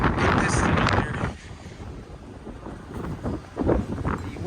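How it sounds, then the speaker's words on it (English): Gusty wind buffets the microphone outdoors, rough low rumbling surges that swell, ease off and return in uneven waves, loud and close. "The wind is blowing."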